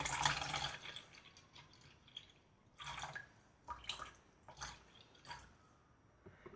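A beer and water mixture is poured into a container on a kitchen scale for soapmaking, giving soft trickles and drips in short bursts with pauses between them, quiet and close.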